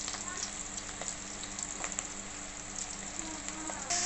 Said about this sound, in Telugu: కరేపాకు ఒక రెమ్మ వేసుకున్నానండి ఇలా నూనెలో వేయించుకోవాలండి